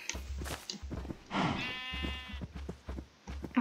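A single clear Minecraft sheep bleat rings out partway through, over a steady rhythmic low thumping in the background.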